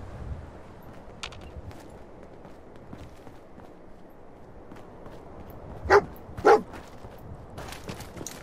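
Two short, sharp dog barks from the German Shepherd companion in Fallout 4 ring out near the end over a low, steady background hum, with faint footstep-like thumps earlier.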